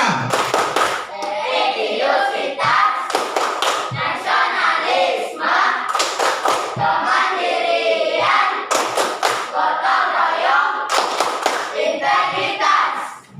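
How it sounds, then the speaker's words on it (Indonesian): A class of students claps in rhythm, with several loud bursts of patterned clapping that alternate with stretches of a teacher talking. "Tepuk tangan untuk kita semuanya."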